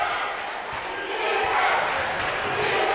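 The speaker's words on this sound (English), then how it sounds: "The crowd's into it." A dense, steady roar rises from the crowd at a high school basketball game in a packed arena, loud and sustained for the whole stretch as sneakers and bounces faintly poke through.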